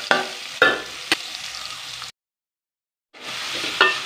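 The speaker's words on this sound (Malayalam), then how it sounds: "സവാള നല്ലപോലെ വറ്റിച്ച് ആ ഒരു ചുമന്ന നിറം വരുമ്പോൾ തക്കാളി ഇട്ട് കൊടുക്കുക" Onions and tomato sauté in a pan for a sardine curry, a close crackling sizzle with a few sharp spoon knocks, interrupted by a second of silence before the frying resumes.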